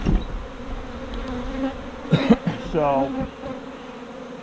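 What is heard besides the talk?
honey bees buzzing around a hive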